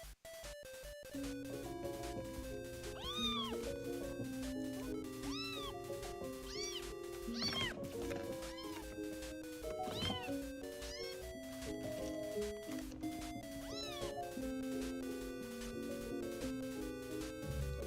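A small cat meows repeatedly over a voice chat call, its rising, wavering cries rising above a steady bed of background music and game sounds, close and fairly loud throughout.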